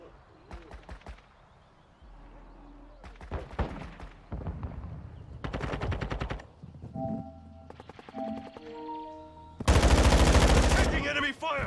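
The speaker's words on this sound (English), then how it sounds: "Taking enemy fire!" Video game gunfire in a team shooter, with bursts of automatic shots and single reports spread across the clip, ending in a loud, dense volley, mixed with game effects and some voice.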